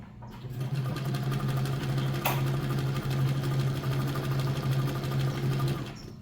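An Emdeko sewing machine stitches a dense satin stitch at a very short stitch length, producing a steady, close mechanical whir with a rapid even rhythm that runs continuously for about six seconds.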